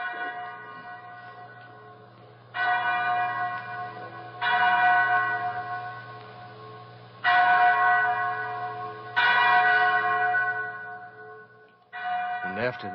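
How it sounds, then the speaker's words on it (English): A chapel bell rings in slow, separate, loud strikes, about five clangs with long ringing decay between them, heard in an old radio drama. "Mary, that's the chapel bell."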